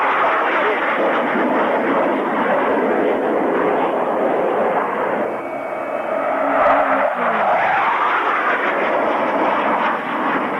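A Hawker Hunter jet fighter passes at a 1998 classic jets airshow: a loud, broad roaring rush that swells and fades over ten seconds with a brief whining tonal shift midway, heard alone.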